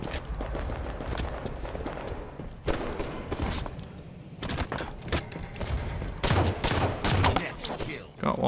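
Rapid bursts of automatic gunfire in Halo 5 Guardians multiplayer, loud dense volleys and sharp shots coming in waves, with brief gaps and a few thuds between them.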